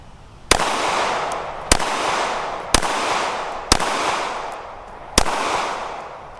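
Five sharp pistol shots from a Ruger RXM at an indoor range, evenly spaced about a second apart, each a loud crack followed by a short echoing decay.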